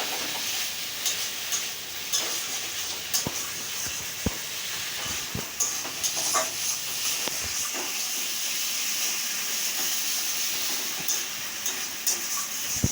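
Cumin and ginger sizzle steadily in hot oil in a pan for a fish curry, a loud continuous hiss with scattered crackles and occasional stirring knocks.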